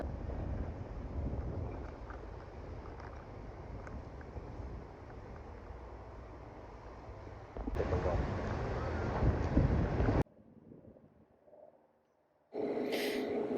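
Blustery wind blows at a boat tied along the Smyrna city wall, a continuous broadband rush that jumps louder for a couple of seconds, drops away almost to nothing, then surges back abruptly.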